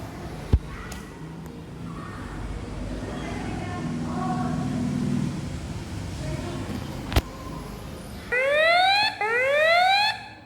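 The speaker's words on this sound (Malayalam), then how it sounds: "മറ്റൊരാളുടെ മുഖം സെൻസ് ചെയ്ത് ഇതുപോലെ അലാറം കേൾക്കും, ഗേറ്റ് തുറക്കില്ല" Rising electronic alarm tones from a face-recognition school gate sweep upward repeatedly near the end, after faint background noise and a couple of sharp clicks.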